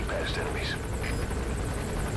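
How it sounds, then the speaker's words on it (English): Enemy gunship helicopter in Metal Gear Solid V: The Phantom Pain, a steady rotor and engine roar filling the scene at close range, with faint game voices and chatter over it. "Get down. That's an enemy gunship."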